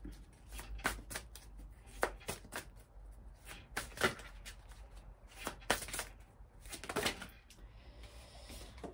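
Oracle cards being shuffled by hand in repeated riffling bursts, crisp papery flutters close up at a moderate level with short pauses between them.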